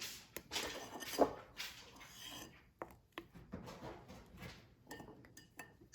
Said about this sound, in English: So you're gonna spoon the brown sugar into your measuring cup